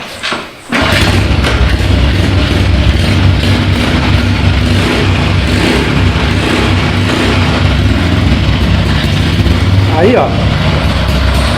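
A Dafra Zig 50 motorcycle fitted with a Honda Biz engine kicks into life after a brief thump, then idles loudly and steadily up close on a cold engine, with someone speaking briefly over it.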